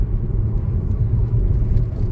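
A car engine rumbles low and steady as the driver accelerates in fourth gear on a road. Road and engine noise fill the cabin evenly, and no one speaks.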